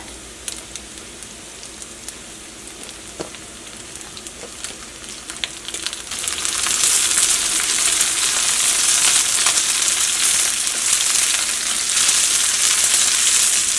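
Thinly cut carrots and beans fry in a hot pan for fried rice, a soft crackle at first that swells into a loud, dense, steady sizzle close to the mic, with occasional stirring clicks.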